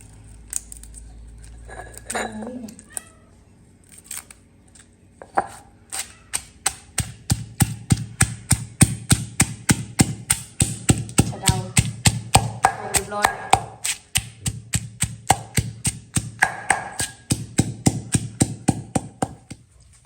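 A pestle pounds giant water bugs and catfish into chili paste in a mortar, a long run of steady, rhythmic thuds that speeds into a regular beat, close and loud, with brief scraping between strikes.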